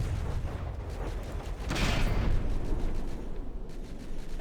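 Cram cannon shell strikes a ship in the naval combat game From the Depths, a loud booming explosion that swells midway and fades into a rumbling roar, with no talk.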